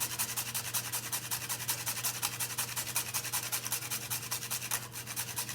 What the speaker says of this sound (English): I'm gonna go ahead and grate my nutmeg in.